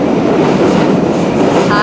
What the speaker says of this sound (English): On the subway.